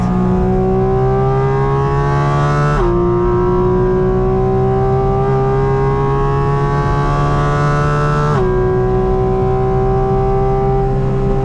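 Porsche GT4 RS race car at full throttle on the Spa track, a loud, sustained high-revving engine wail that drops sharply at two upshifts and climbs again each time, close and continuous.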